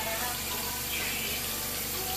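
Water runs steadily from a tap to wet a cotton swab, a continuous close rushing splash throughout.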